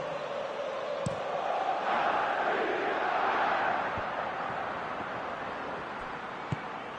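A football stadium crowd roars in a broad, distant swell of cheering that peaks and then settles into a sustained murmur, with a few faint thumps underneath.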